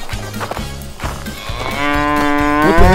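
A panicked cartoon cow moos in long, rising, wavering bellows over a steady rhythmic music backing, growing louder toward the end.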